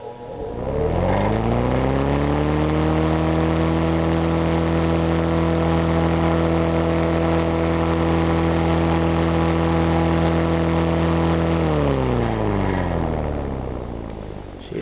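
A restored Eskimo electric fan runs close by, its freshly oiled motor spinning up into a steady, strongly tonal hum that holds level for several seconds before winding down slightly near the end.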